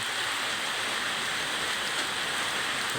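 Heavy rain keeps falling steadily over flooded rice fields in Sisaket, Thailand. It makes a dense, even hiss of drops with no breaks, and no voices are heard.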